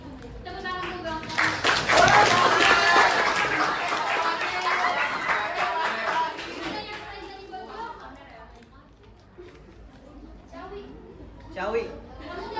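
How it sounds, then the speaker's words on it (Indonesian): A group of students breaks into a burst of applause, dense clapping that swells early and then thins out, mixed with chatter and voices talking. "Tepuk tangan dulu dong"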